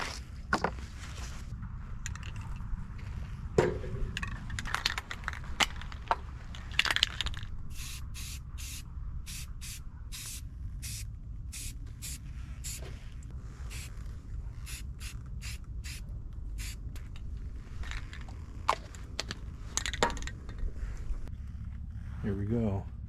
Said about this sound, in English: Now let's hit it with a nice coat of spray paint,